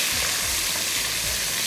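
Onions and tomatoes hit oil in a hot pan while cooking keema, giving a loud continuous sizzle with faint stirring scrapes close by.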